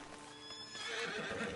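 Horse in the video game Red Dead Redemption 2 whinnies loudly near the end, with clip-clop hooves and faint background ambience beneath; no talking.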